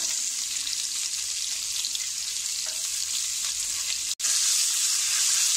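Sliced onion sautéing in a pan for restaurant-style matar paneer, a loud, even hiss of frying that holds steady and breaks off for a split second near the end.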